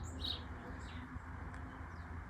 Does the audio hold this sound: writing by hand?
no